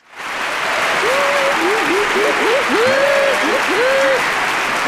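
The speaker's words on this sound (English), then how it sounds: "The crowd is going wild." A crowd claps and cheers loudly and continuously as a guest comes on, with a high rising and falling whoop or whistle riding over the steady roar of applause.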